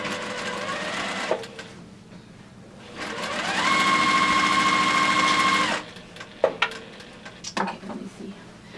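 A sewing machine stitching a quilt border runs in a steady, fairly loud mechanical whir for about three seconds, with shorter bursts and small clicks of handling before and after.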